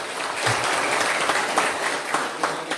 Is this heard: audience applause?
yes